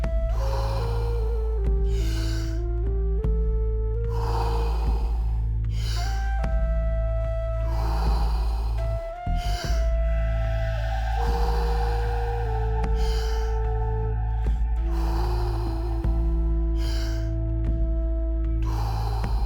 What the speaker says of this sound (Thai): หายใจเข้าเต็มปอด แล้วหายใจออก ทำไป เรื่อย ๆ ไม่มีการหยุดพักระหว่างหายใจเข้าและหายใจออก